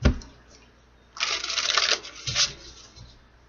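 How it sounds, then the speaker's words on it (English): A deck of tarot cards is shuffled close by, with a long crisp riffling burst followed by a shorter second riffle, with no voices. "Let's get one more shuffle."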